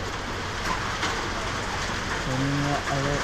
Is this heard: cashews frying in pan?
no